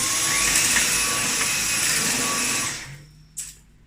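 A Beko cordless stick vacuum cleaner runs over sand and rice with a loud steady whine and rushing airflow, then winds down and stops, followed by a small knock.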